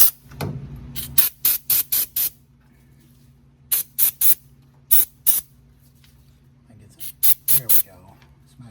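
Short bursts of spray cleaner hiss into the amp gauge of a 1966 Mustang, coming in clustered runs of three to five quick squirts with pauses between, loud and close.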